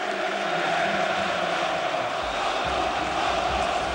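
Basketball arena crowd in Athens at a Euroleague final, a dense continuous roar from a large audience, loud and unbroken throughout.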